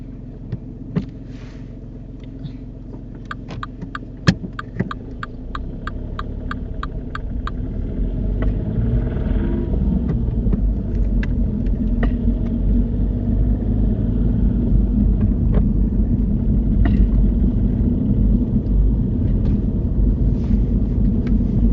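A car moving off during a driving test, its engine rumble swelling from low idle into steady, loud cabin drone with road noise, a short series of ticking clicks early on, and no talking.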